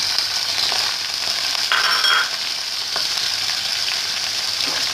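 Minced mutton sizzles steadily in a hot pan with onions, a constant crackling hiss with a few brief scraping stirs.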